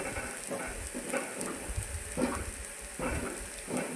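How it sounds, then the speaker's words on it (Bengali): Ground turmeric, salt and cumin fry in a pan for stuffed kakrol pakora, giving a soft steady sizzle with a few gentle stirring scrapes repeating roughly every second, close and quiet, with no talking. "ভালো করে ভেজে নেব আমরা"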